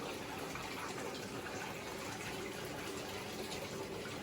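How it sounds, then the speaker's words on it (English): Hot water runs into a bathtub being filled for laundry stripping, a faint, steady rushing and gushing that continues without a break. "the water has been filling out the bathtub"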